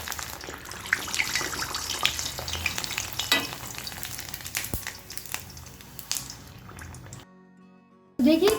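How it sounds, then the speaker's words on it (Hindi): Sooji kurwadi dropped into smoking-hot oil, a steady close sizzle and bubbling of frying that runs for several seconds, briefly drops out, then returns loudly. "तो अब ये सूजी की कुरवाड़ी हम डालेंगे फ्राई करने के लिए।"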